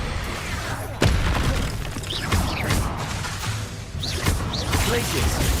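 An Expulso spell blast in the video game Hogwarts Legacy lands as a heavy booming hit about a second in, followed by another blast later, amid constant clattering combat effects and mechanical noise.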